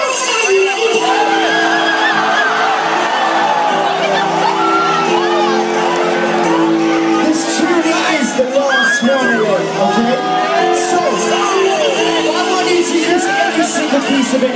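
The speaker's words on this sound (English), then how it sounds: "From the front to that row, let me hear you yell." A packed concert crowd at a live show at the Fonda Theatre yells, whoops and cheers loudly and continuously, a dense wall of voices with no pause throughout.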